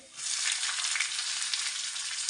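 Chopped onion hits oil where garlic has already browned, for a yogurt tadka, giving a loud, steady, close sizzle that holds unbroken after a brief start, with no voices.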